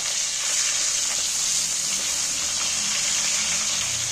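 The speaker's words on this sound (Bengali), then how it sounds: "তেলটা গরম হয়ে গেছে, একটা করে তেলের মধ্যে মাছগুলো দিয়ে দিচ্ছি।" Pomfret fish fry in hot oil with a steady, bright hiss that does not change. The sizzle is close and fairly loud and is heard alone, with no voices.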